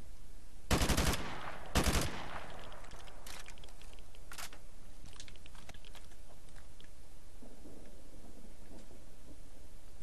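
Gunfire in Call of Duty: Modern Warfare Remastered, during the All Ghillied Up sniper mission: two short, loud bursts of automatic fire close together, then faint scattered shots in the background.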